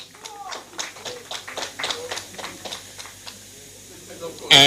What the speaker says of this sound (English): Round of applause for Sheehan Cherry